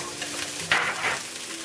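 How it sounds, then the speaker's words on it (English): Rice tossed and stir-fried in a hot wok for Hong Kong style beef and lettuce fried rice, a short steady sizzle with a brief louder scrape-and-toss burst in the middle, close and alone without talk. "Now I'm going to add the rice."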